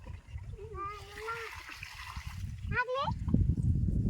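Water splashing and trickling while an oil tin is washed outdoors, a short wet burst under a child's and adults' voices nearby.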